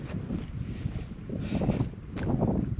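Gusty wind over a wheat field buffets the microphone in uneven rumbling surges, growing stronger toward the end, with no talking.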